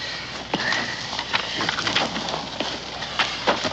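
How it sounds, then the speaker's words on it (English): Several horses gallop off over open ground, hooves clattering in a quick, uneven rhythm at mid distance, with birds chirping faintly in the background. "Horses. They're going."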